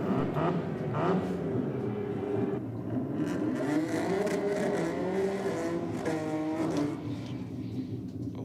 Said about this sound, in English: I think I can hear that rotary that Stu was talking about